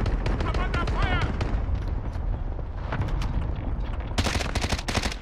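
Rapid gunfire and bursts in Call of Duty Modern Warfare, with crackling shots and rumbling explosions mixed under voices talking, the firing sharpening and growing louder toward the end.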